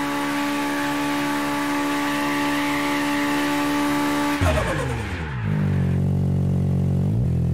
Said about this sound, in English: We do massive, massive burnouts.